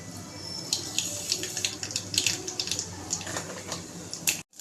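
Mustard seeds tossed into hot oil in a kadhai for tempering crackle and sputter in a quick scatter of sharp pops over a soft frying hiss, close by with no talking.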